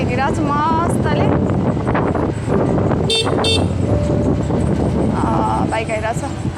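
A motorbike comes along a road in Lalitpur, Nepal. A loud engine and road rumble fill the scene, with sharp horn toots around the middle and a voice in the mix.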